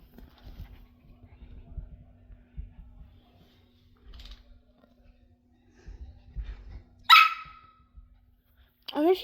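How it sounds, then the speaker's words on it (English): Dog Leia gives a sharp bark near the end, followed by another yelp-like call, after stretches of low rumbling movement and handling noise. "And then she starts barking."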